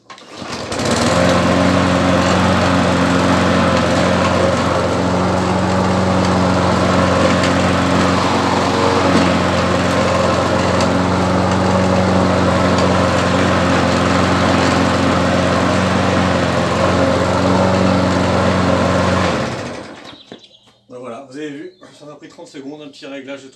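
STIGA lawn mower engine running steadily and loudly for about twenty seconds with a constant droning hum, then cutting off, followed by someone talking.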